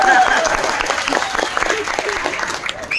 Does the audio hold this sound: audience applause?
yes